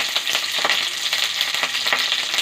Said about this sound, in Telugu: కరివేపాకు బాగా ఫ్రై చేసుకొని పక్కకు తీసేసేయాలి.